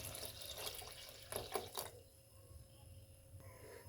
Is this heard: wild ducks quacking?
no